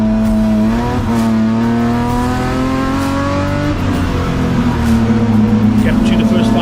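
BMW M Performance Parts race cars run on a track, engines roaring loudly with rising and falling pitch as they accelerate and shift, under constant commentary from a race announcer.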